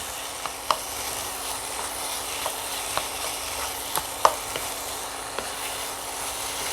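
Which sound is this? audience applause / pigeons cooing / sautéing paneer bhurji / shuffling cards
sautéing paneer bhurji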